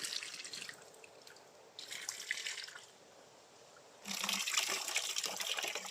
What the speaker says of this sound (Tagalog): Ginamit naman uli natin yung ating magic strainer para mabawasan ng tubig.